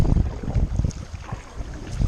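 Wind gusting around a small paddled boat on open water, heard as a loud, steady low rumble of wind buffeting the microphone for a couple of seconds, with no talking.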